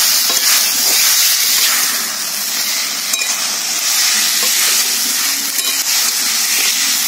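Lightly boiled potatoes sautéing with spices in a pan, a steady close sizzle with occasional soft scrapes from stirring, filling the whole stretch without any talk.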